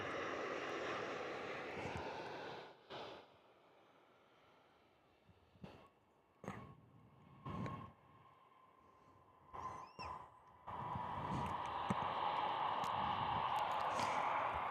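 A Velocity Boeing 737 MAX jet arriving at Perth Airport in the morning: loud, broad engine roar at the start, a quieter stretch broken by brief bursts, then the roar swelling strongly again near the end.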